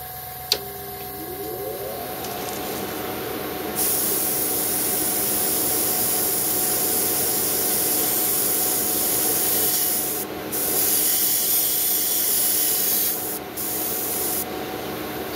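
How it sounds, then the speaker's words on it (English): A steady hiss of airbrush spray runs continuously while painting a Gundam model kit, cutting out briefly a few times, over a faint mechanical hum from a compressor. "let's just make sure the airbrush is spraying"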